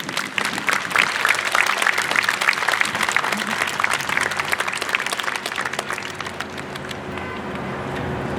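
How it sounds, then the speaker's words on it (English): Sustained applause from a graduation ceremony audience, steady and fairly loud for most of the stretch, then thinning slightly toward the end with a few scattered claps. "Give them all at this time a big round of applause"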